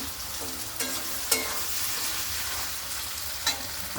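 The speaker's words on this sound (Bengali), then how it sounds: "আলু ভাজা একটু মোটা মোটা করে কেটে নিচ্ছি" Thick-cut potato pieces fry in a pan with a steady crackling sizzle, punctuated by a few sharp stirring scrapes and clinks, close and clear with no talking.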